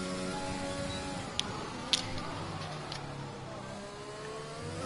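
Aston Martin race car engine in a sim racing game on the Baku circuit, a steady low engine drone with rising harmonic sweeps, a few sharp clicks over it, no talk.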